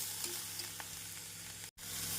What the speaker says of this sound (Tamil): நம் காளானை பொடியாக நறுக்கி சேர்த்து மிதமான தீயில் வதக்க வேண்டும்